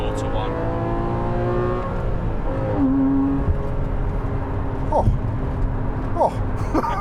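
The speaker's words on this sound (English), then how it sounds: "We're in 3rd on there, and you can nearly rev it out" Porsche Cayman engine pulling hard in third gear, a loud cabin drone whose pitch climbs and then drops at shifts. Brief gasps and voices from occupants break in over it.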